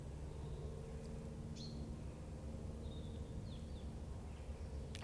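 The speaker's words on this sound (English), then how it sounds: "I can hear the birds." A few faint, distant bird chirps rise above a low outdoor hum and rumble, scattered and brief.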